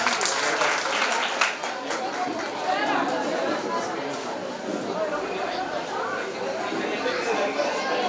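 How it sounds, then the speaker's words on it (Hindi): An audience at a Bhopal talent hunt applauds for a child, with the clapping mixed under crowd chatter and voices throughout. "जोरदार तालियां बजाइए बच्चे के लिए।"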